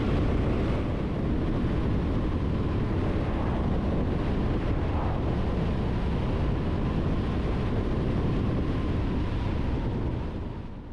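Strong wind roaring and buffeting the microphone, a constant loud rumble with no voices.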